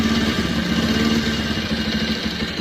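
A 2023 Bajaj Pulsar 150 motorcycle engine idles steadily up close, a smooth continuous mechanical hum with no voices.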